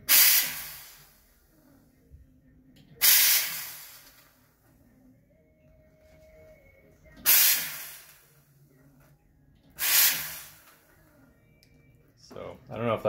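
An ECM Synchronika espresso machine's steam wand with a joystick-style knob gives four loud, close bursts of steam hiss, each tailing off gradually rather than cutting out, with a softer hiss near the end and quiet gaps between bursts.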